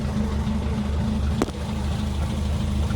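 A 1934 Singer 9 Le Mans car with its engine running, a steady low rumble up close with one brief sharp click partway through.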